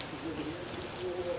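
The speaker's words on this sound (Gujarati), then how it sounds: "અત્યારે વરસાદ ચાલુ છે, તમે જોઈ શકો છો." Rain falls steadily in a soft, even hiss of drops on surfaces, faint and continuous, with a few brief tonal sounds faintly in the background.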